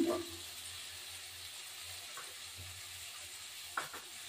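Cut potatoes fry in a pan with a continuous, moderate sizzle, broken by a few light stirring clicks.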